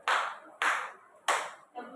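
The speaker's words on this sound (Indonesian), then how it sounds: "Tepuk tangan 3 kali." Three sharp hand claps from a classroom group, evenly spaced and fairly close, each a crisp burst with a short decay, followed by the start of a fourth, softer clap.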